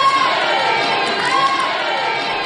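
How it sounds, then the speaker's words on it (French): A crowd of goblins claps and shouts with joy in a dense, steady roar of cheering voices that holds at an even loudness throughout. "Tous les lutins se sont arrêtés, en battant des mains et en poussant de grands cris de joie."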